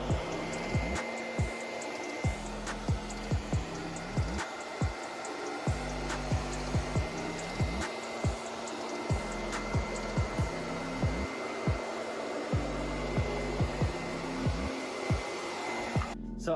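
Steady, loud whoosh of a hairdryer blowing continuously, with rhythmic repeated thumps and clicks as it is moved along walls; no talking.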